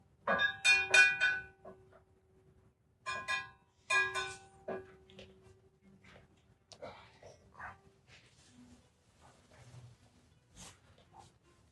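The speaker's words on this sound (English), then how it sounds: "another bell" A bell rings out several times outdoors at a rock-climbing spot, the ringing strikes clear at first then fading, with faint background sounds and no talk.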